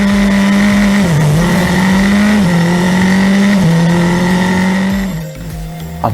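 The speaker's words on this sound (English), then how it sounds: "I had a really bad launch off the grid, so I got jumped on the start" F4 race car launching off the starting grid on a night street circuit in Chennai: a loud, close engine howl that holds steady with brief dips at each gear change, then fades as the car pulls away.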